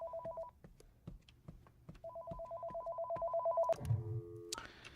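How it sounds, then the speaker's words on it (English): A telephone ringing down the hall in a horror video game: repeated electronic ring bursts in a steady pattern, clear and fairly close, ending in a clatter of game sound. "I can hear the phone ringing down the hall."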